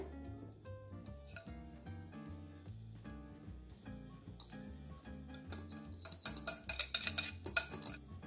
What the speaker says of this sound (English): just stir this and just until the ingredients are well combined